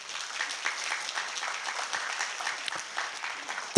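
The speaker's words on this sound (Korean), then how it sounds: "자기한테 격려 박수 한번 부탁드려요" An audience at a free investment lecture in Korea applauds steadily, a dense wash of many hands clapping at even loudness for a few seconds, with faint voices mixed in.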